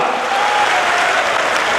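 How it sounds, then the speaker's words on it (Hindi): Loud, dense applause from a large crowd at a Bharatiya Janata Party political rally in Chhindwara, a continuous roar of clapping filling the whole moment. "जोरदार तालियां राष्ट्रीय अध्यक्ष जी का।"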